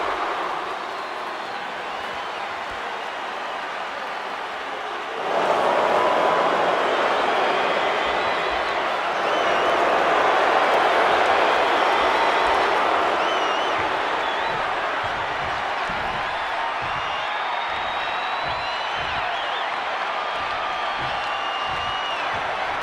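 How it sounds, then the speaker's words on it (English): A large wrestling arena crowd at a Monday Night Raw event cheers and applauds, a steady roar that swells sharply partway through and then holds loud, with rhythmic chanting pulses near the end. "The entire crowd is yeeting!"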